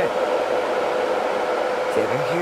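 A Pictek white noise machine's steady, broad whooshing fan sound runs continuously at an even level, with a faint shift in tone near the end as its housing is twisted.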